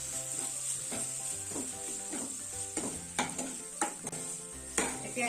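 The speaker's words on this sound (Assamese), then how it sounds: "এতিয়া এনেকৈ এইখিনি মছলাৰ সৈতে 2 মিনিটমান ভাজি লওঁ।" Boiled squash and potato frying with spices in a pan, a steady sizzle running throughout with repeated scraping stir strokes and a few sharper clinks of a spatula against the pan, close and alone.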